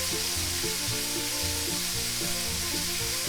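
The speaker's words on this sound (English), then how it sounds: "we want that good sizzle right there" Three pork chops frying in a big cast iron skillet, giving a steady, dense, close sizzle and crackle with no talking.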